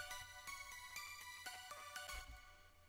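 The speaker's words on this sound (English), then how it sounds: "Nice bright pluck layer." A bright plucked synth layer from Nexus plays a quick run of short, sparkling notes in a regular rhythm, quiet and clean.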